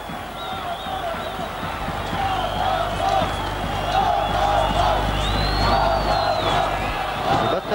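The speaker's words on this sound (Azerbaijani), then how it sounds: "Onlar komandalarının qolunu alqışlayırlar" Qarabağ football fans in a stadium roar and cheer a goal during a 2006 Azerbaijan Cup match against Karvan, a steady, swelling crowd din with whoops, while a commentator talks over it.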